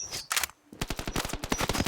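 Rapid bursts of video game gunfire, a short volley, a brief pause, then a longer fast stream of crisp shots close up.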